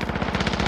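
Rapid automatic gunfire rattles in a video game, a fast unbroken burst of shots lasting under a second, loud and close with no voices.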